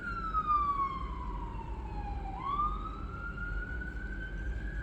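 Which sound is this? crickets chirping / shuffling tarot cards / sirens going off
sirens going off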